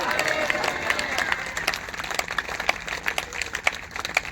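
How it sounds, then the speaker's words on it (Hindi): A church congregation at a Sunday service in Palam applauds loudly, a dense, continuous patter of many hands clapping with a voice speaking over it. "अगर आए तो जोरदार तालियां बजाएंगे।"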